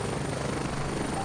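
A helicopter in the tactical shooter game Gray Zone Warfare drones with a loud, steady rotor roar and engine whine, continuous and close throughout.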